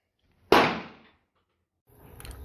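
A single sharp pistol shot from a Turkish-made 9mm 1911 Combat Commander clone at an outdoor shooting range, loud and close with a short decaying tail, followed by faint rustling.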